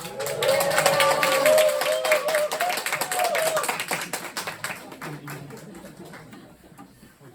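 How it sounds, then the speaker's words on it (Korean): A church congregation claps and calls out as the pastor comes forward, a loud burst of many hands and voices that gradually thins and fades, with scattered sharp taps trailing at the end. "할렐루야 하고 박수 치시면서 찬양하도록 하겠습니다"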